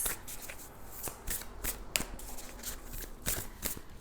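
Tarot cards being shuffled by hand, a steady run of soft riffling flutters and sharp papery snaps at close range, with no talking.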